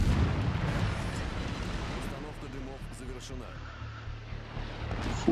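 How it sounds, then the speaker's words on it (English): The destroyer Benham launches torpedoes during a World of Warships battle, a string of muffled booming bursts and rumbling explosions over constant ocean and engine noise. "Then we drop some more torpedoes."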